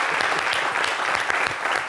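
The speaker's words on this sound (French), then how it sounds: "Ça s'applaudit" A studio audience applauds on a French-language talk show, a dense burst of clapping close and steady for two seconds.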